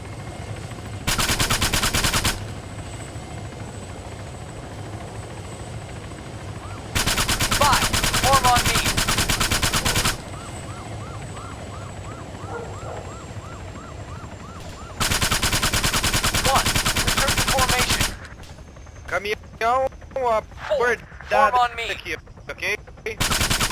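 Bursts of automatic gunfire in the military shooter Arma 3, three long sustained volleys separated by quieter ambience, followed by a scatter of shorter rapid shots toward the end.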